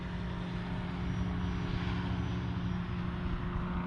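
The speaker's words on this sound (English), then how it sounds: "Plane has a nice presence in the air, and it does have just simple nav lights." Arrows RC Tecnam model airplane in flight, its engine and propeller giving a steady, fairly loud drone that holds throughout with no talking.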